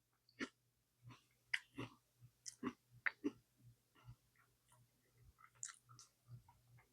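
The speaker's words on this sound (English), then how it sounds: "That crunch on that biscotti and our croutons is everything." Crunchy biscotti is chewed up close, a series of sharp irregular crackling bites spaced across several seconds against a quiet background with a faint low hum.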